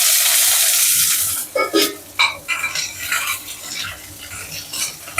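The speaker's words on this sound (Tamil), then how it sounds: "நல்லா வதங்கட்டும்." Shallots, cumin, mustard seeds and garlic sautéing in a pan for a spicy okra curry: a loud hiss at first, then a series of sharp scraping stir strokes over a quieter sizzle.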